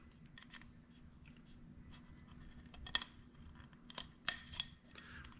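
A small pick pries the O-ring out of the oil filter cap on a 2018-2023 Volkswagen, making faint, close scratching and scraping with a few sharp metallic ticks toward the end, and nobody talking.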